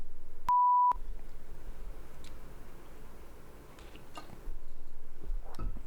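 A single electronic beeper gives one steady, clear tone lasting about half a second near the start, then a quiet room with faint ticks and light background noise.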